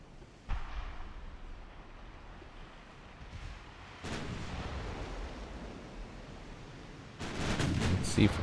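Naval artillery fire against an armored cruiser in Ultimate Admiral Dreadnoughts, a few distant booming gun reports rolling over a steady wind-and-sea wash, with a louder crackling salvo near the end.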